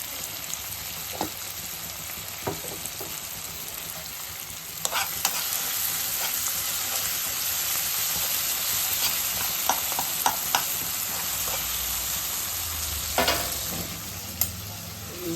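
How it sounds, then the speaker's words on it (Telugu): Onion and green chillies frying for pasta in a pan, a steady close sizzle with occasional stirring scrapes and clinks throughout, no voices. "టమాటా పచ్చిమిర్చి వేగిపోయింది ఉల్లిగడ్డ పచ్చిమిర్చి వేసుకుందాం"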